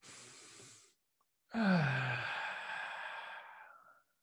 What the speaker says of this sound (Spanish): Toma tres respiraciones profundas, por favor.